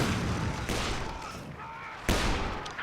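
Artillery bombardment in the video game Company of Heroes 2, a wartime battle with rumbling shell impacts and gunfire, two sharp heavy blasts punctuating a constant loud roar of battle noise.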